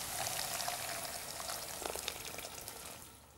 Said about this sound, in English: by stock I mean hot water,